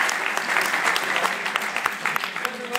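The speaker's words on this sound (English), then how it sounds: "I think he deserves a huge round of applause for that." Audience applauding at a juggling performance with rat traps, a dense, continuous patter of many hands clapping at moderate volume with a few sharper claps standing out and faint voices mixed in.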